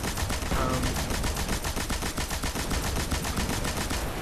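Rapid, sustained heavy-weapon gunfire in the shooter game Destiny, a dense run of loud bursts fired without pause for about four seconds with no voices over it.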